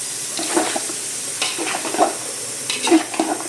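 Shredded cabbage is stir-fried for Nepali chowmein, giving a steady close sizzle with scraping stirs and light clatter recurring every second or so, with no talking.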